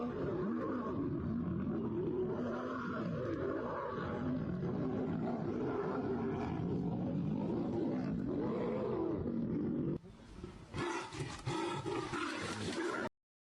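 Deep rumbling roars from lions at a wildlife park or savanna enclosure fill a long stretch of steady low sound, then give way to brighter, broken noise near the end.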